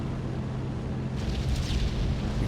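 Airship turret fire in a video game, heard as a dense, continuous rumbling roar of explosions, loud and sustained with no voices.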